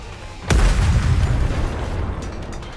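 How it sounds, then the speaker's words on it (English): Missile explosions in the video game Goddess of Victory: NIKKE: a loud, sudden blast erupts with a heavy low boom, then a long rumbling roar and debris crackle that slowly fades. "The missiles have no homing ability. It's just firing wildly!"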